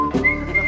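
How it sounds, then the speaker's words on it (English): A lone whistler carries a short melodic phrase, clear and close, with a sustained pitch sliding between a few notes. "the unforgettable melodies of 40 whistling greats"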